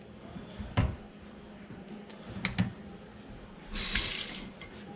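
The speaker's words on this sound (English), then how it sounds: "So we're back over at the sink, and we're just going to give it a little bit of Dawn." Running tap water splashes into a sink while a Lodge cast iron skillet is washed with dish soap, with a few clunks of the pan and a louder burst of flowing water near the end.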